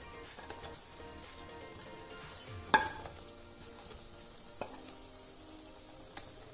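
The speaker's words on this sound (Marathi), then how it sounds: "यामध्ये आपण आता तळलेले पनीरचे पीसेस घालूया।" Fried paneer pieces dropped into chilli sauce in a pan, giving a steady soft sizzle with a sharp clatter near the start and a couple of lighter knocks after it.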